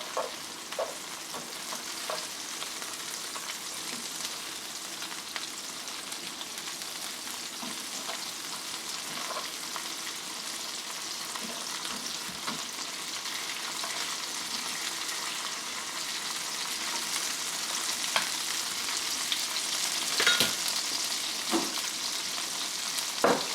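Butter, about four tablespoons, frying in a pan as the base for a creamy garlic shrimp sauce, giving a steady, even sizzle with faint pops and crackles throughout, no voices.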